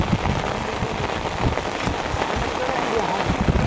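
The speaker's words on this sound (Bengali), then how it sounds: "আবার নামছে বৃষ্টি" Rain falls steadily on a riverbank on a flood-warning day, a dense, even patter of drops close by that continues without a break.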